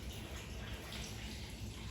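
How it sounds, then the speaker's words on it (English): Water pours steadily into a pressure cooker being filled to its fill line for bone broth, a continuous close rushing splash with no breaks. "I'll go on and fill up with a little bit more water until the fill line"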